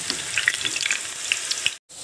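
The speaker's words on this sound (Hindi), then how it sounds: "मैं इसको ऐसे करके सिंगल सिंगल में डालूंगी और इसे डीप फ्राई कर लूँगी" Pieces of besan dough sizzle as they deep fry in hot oil, a close, bright crackling hiss with scattered pops that cuts out abruptly near the end.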